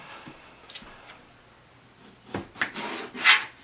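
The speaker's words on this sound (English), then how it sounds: "Let me just cut up the eggplant." A knife slices through an eggplant on a cutting board in a kitchen, a few short rubbing and scraping cuts and taps, faint at first and then closer and louder, with no talk.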